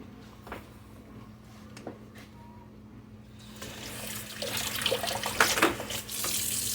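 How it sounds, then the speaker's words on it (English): Water runs from a tap nearby, starting quietly with a few small knocks and then rising into a steady, louder gush. "My husband's in here running water, y'all."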